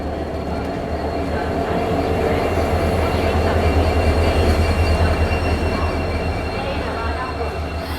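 The Agartala Tejas Rajdhani Express rolls loudly nearby with a deep steady rumble, rattling carriages and faint wheel squeal throughout.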